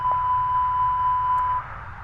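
Engine 2 fire test warning in the A32NX airliner cockpit in MSFS 2020, a steady continuous electronic tone held for about a second and a half before stopping, over faint cockpit hum.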